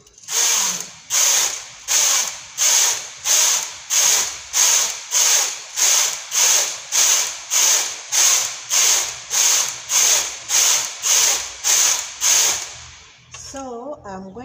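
A knitting machine's carriage sweeps back and forth knitting straight rows of a capelet poncho, a steady series of about twenty evenly spaced rasping, whirring passes, close and clear, ending with a brief clicking rattle.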